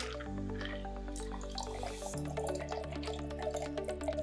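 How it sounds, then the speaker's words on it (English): A shaken cocktail pours from a shaker into a champagne flute: a steady liquid stream with dripping and splashing, quiet and close, with no talking. "And then we're going to pour it into our champagne flute."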